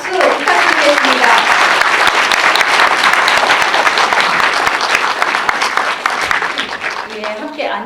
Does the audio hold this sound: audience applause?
yes